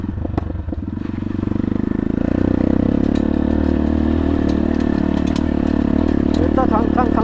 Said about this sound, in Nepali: हल्का बाइकको चाहिँ खङ्ग्रा खङ्ग्रा चाहिँ आइरहेछ